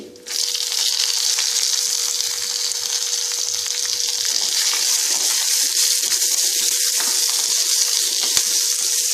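Shallots and curry leaves sauté in a pan for beetroot poriyal, a strong, constant sizzle with a few soft stirring scrapes and a faint steady hum beneath.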